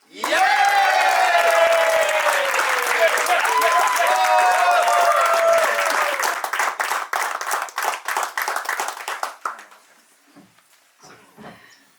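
Loud audience applause welcoming a course sponsor and board member at a graduation ceremony, with cheering voices over steady clapping that thins into scattered claps and fades out near the end.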